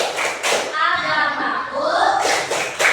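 A group performs the rhythmic tepuk Islam clapping chant in a classroom, sharp hand claps and thumps alternating with voices calling out in a lively, close, patterned rhythm.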